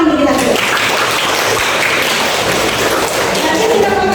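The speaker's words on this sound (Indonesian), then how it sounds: "Tepuk tangan bagi kita." A classroom group clapping together, a loud, dense burst of hands that fills the whole stretch, with voices faintly at the edges.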